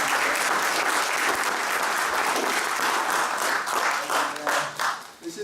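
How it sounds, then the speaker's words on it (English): An audience applauds steadily for several seconds, dense clapping that thins and fades out toward the end. "Let's have a quick initial round of applause."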